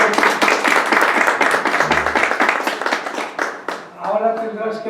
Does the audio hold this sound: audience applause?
yes